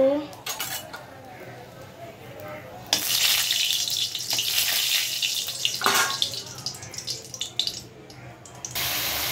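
Taro leaves (kochu shak) cook in a pan, with sizzling and clinking of utensils against cookware rising partway through, along with some watery splashing, fairly close and uneven in loudness.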